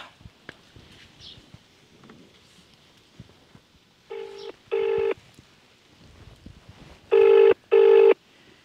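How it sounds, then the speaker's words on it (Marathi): An outgoing phone call ringing on the line: two pairs of loud electronic ringback tone bursts, evenly spaced, over a quiet background with faint rustling. "फोन लागलाय, डायरेक्ट बघू काय होतंय"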